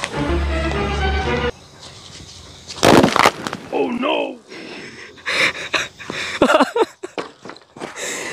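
Molten salt poured from a pot into a water-filled fish tank erupts in a sudden loud burst, followed by a few sharp cracks and bangs amid excited voices talking and gasping.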